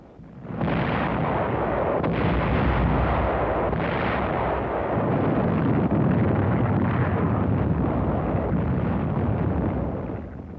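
Artillery pounds a Japanese defensive line on southern Okinawa, with tank support, a dense, sustained roar of rolling blasts and rumbling gunfire that stays loud and continuous throughout.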